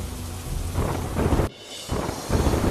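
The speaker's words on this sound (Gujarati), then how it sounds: "અનેક વિસ્તારોમાં છૂટોછવાયો વરસાદ થયો" Thunder rumbles and steady rain pour down across Valsad district, Gujarat, loud and continuous, with a brief drop in the downpour midway before the storm noise surges back.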